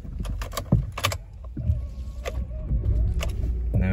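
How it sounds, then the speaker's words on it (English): A Honda CR-V 1.6 i-DTEC diesel engine starts after a few clicks and clunks, then settles into a steady, close low idle. "And then I'll just start the engine up."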